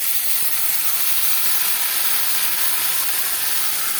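Ginger, garlic, onion and chili paste fries in oil for a mutton curry, giving a loud, even hiss that holds steady without a break.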